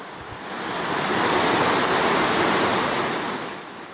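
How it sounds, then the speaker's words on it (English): Flooded creek rushing hard during Hurricane Irene, normally a calm stream, a steady broad roar of fast-moving water close by, swelling slightly and holding loud throughout with no voices. "Standing next to this creek, it's hard to believe how much water is actually flowing through here."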